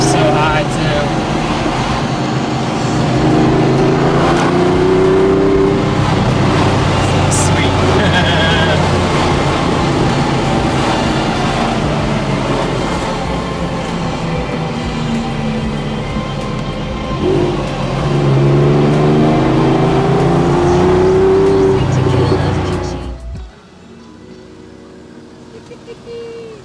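A Porsche 996 GT3 sports car from about 2004 drones close and loud on a track, its engine note swelling and dipping through several rev changes before cutting away abruptly near the end.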